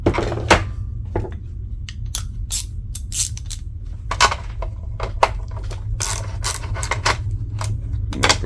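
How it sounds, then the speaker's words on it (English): Wrench loosening 5/8 inch nuts on the AM radio of a 1955 Chevy Bel Air: close, sharp metallic clicks and ratcheting ticks in irregular bursts over a low steady hum, with no talking. "these nuts right here, you got to take those off."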